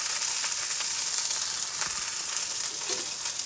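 Rosemary sizzling as it is added to a hot pan with seared venison haunch, the heat just turned down; a steady, close frying hiss runs throughout with small crackles and no talking.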